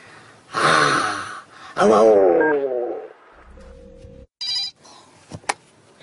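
A telephone rings during a radio show, with loud, close bursts of warbling electronic ringing in two long stretches, then shorter chirps and a couple of sharp clicks as the line picks up.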